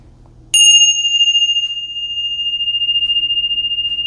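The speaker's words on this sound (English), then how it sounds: "Let's ring the bells, clear the energy" A single bell struck once, clear and loud, its bright ring sustaining and slowly fading over several seconds in a quiet room.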